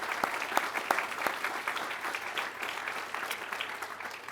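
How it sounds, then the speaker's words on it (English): A crowd at a pilot training graduation ceremony applauding steadily for several seconds, dense clapping with a few sharper individual claps standing out, sustained and even throughout. "So please, a round of applause for our maintenance team."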